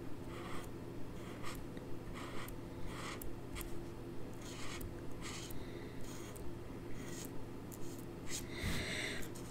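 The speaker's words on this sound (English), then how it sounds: "I'm just going to draw around the inside of each leaf" A pen scratches softly around the inside of stamped succulent leaves on card, making a faint, regular run of short strokes, close up and quiet.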